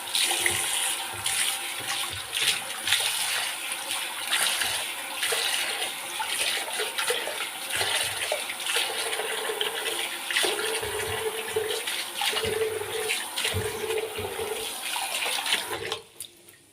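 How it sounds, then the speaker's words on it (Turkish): Tap water runs steadily while a bathroom sink is washed, a continuous splashing rush with occasional clatter, cutting off abruptly near the end. "dedim lavaboyu yıkayayım"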